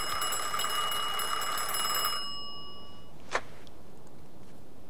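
An old-style telephone rings in the 1940s crime game Mafia 2, a bright metallic bell trilling for about two seconds and then cutting off, followed by quiet and a single short click.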